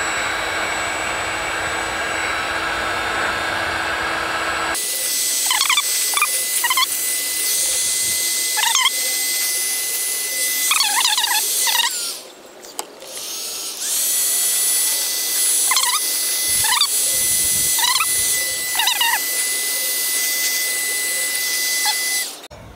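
A heat gun blows steadily in a workshop while working on a trolling motor cable repair, a loud continuous hiss and whir with a short dip midway, joined by scattered high squeaks and chirps.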